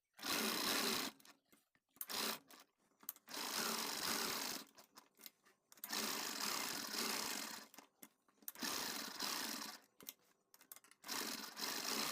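A sewing machine stitches the back neck of a blouse in repeated bursts of rapid running, roughly five runs separated by short pauses, close and fairly loud with no talking.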